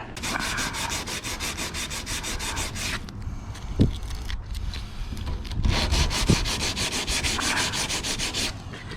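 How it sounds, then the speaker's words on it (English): Sandpaper is rubbed over the body of a Cobra Daytona replica car in rapid, rhythmic back-and-forth strokes. A short pause with a couple of knocks breaks the strokes before close, steady sanding resumes. "I'm going to grab some more sandpaper here"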